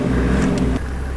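Car engine keeps idling steadily after the ignition key has been pulled, a fault where it will not shut off; a continuous low rumble close by, slight dip partway through, no talk.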